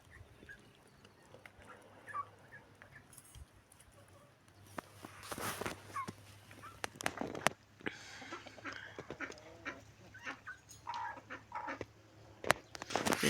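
Rooster and hens clucking in a yard, intermittent calls and scratchy clucks over a low steady hum, with footsteps and handling noises nearby; moderately faint overall.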